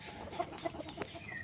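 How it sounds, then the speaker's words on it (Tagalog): Domestic chickens, including a hen, cluck softly in a quick, uneven series of short calls close by, ending with a louder burst. "Ang mga alaga siyang manok."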